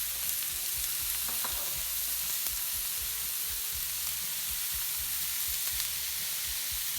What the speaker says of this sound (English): I've now put it on part of the griddle that I haven't used, so it'll be nice and hot so we can continue with that sear.